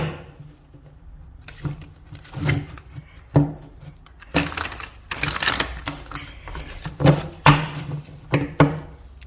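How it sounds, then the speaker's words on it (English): Tarot cards shuffled by hand in a quiet room, giving repeated dry riffling bursts and soft papery slaps in an irregular rhythm with short pauses, close and fairly loud. "one more shuffle."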